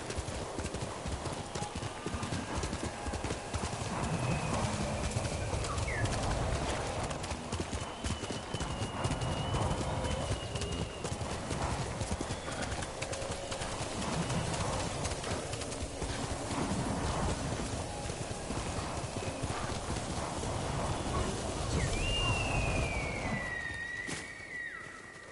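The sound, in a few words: horse hooves clip-clop in video game Ghost of Tsushima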